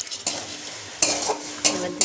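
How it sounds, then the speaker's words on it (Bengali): Spice paste of ground fennel, chilli and cumin stirred and fried with onions in hot oil, a close steady sizzle broken by a few sharp scrapes and clinks of the spoon against the pan. "এবার মশলাটা একটু ভাজা হবে।"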